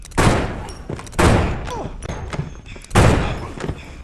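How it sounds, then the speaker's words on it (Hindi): Three heavy gunshots ring out in a movie scene, each a loud sharp blast with a ringing tail, spaced about a second apart, with faint voices between them. "तब कैरल उन पर गोलियां चलाकर सभी को मार डालती है।"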